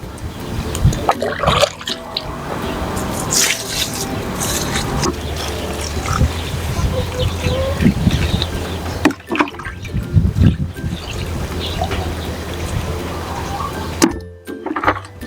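A sugar and salt mixture poured into a container of packed feed, a steady rushing, trickling pour running continuously and fairly loud, with no talk over it.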